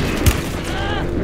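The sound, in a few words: gunfire in a video game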